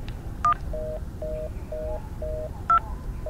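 Cartoon phone keypad dialing tones: a pair of higher beeps, then a steady run of evenly spaced mid-pitched tones, and another higher beep near the end, all clear over a low background rumble.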